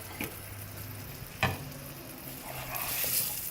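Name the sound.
chicken kofta cooking in masala on medium-low flame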